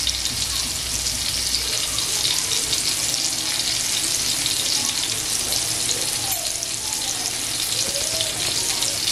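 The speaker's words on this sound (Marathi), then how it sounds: "मस्त एकदम स्लो गॅसवर आहे ना फ्राय करून घ्यायची मच्छी." Karli fish frying in a pan over a low flame, a steady, close sizzle that holds evenly throughout with faint background noise.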